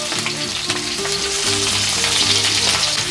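Two dried red chillies and a chopped onion frying in hot oil for moong dal with fish head, giving a loud, continuous sizzle close up with faint stirring over it.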